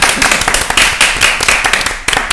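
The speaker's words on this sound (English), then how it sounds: "Should we give him a clap?" Dense, close clapping from a small audience at a J.W. Anderson womenswear autumn/winter 2013 fashion panel discussion, continuous and lively throughout.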